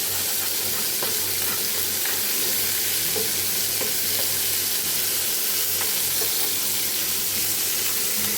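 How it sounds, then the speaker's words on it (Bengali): Spice paste frying and being stirred together with vegetables in a pan, a steady close sizzle with scraping stir strokes and occasional light clinks of the spoon against the pan, no talking. "এখন জাস্ট মশলাটাকে ভালো করে কষিয়ে নিচ্ছি সবজির সঙ্গে"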